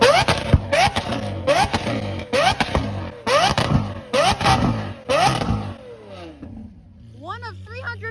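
A Lamborghini Aventador Ultimate V12 revs hard in a string of sharp, rising blips at a cars and coffee meet, loud and echoing, then settles to a lower rumble as another engine note rises.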